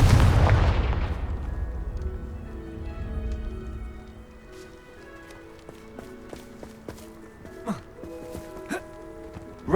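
A Confringo blasting spell in Hogwarts Legacy on PS5 bursts into a loud, booming explosion that rolls off over a few seconds, followed by quieter game ambience with scattered impacts and clatter.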